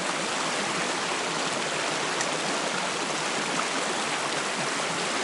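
A trout creek on the Goodradigbee River rushes steadily nearby, a loud, continuous broadband wash of flowing water with no voices.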